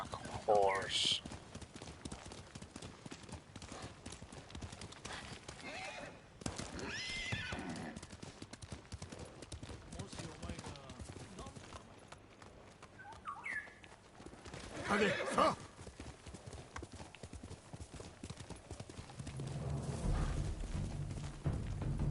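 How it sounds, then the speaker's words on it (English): In the Ghost of Tsushima video game, a horse's hooves clip-clop in a steady, busy rhythm as it runs, with a few neighs rising above game noise and a voice talking over it. "Alright, horsey horse."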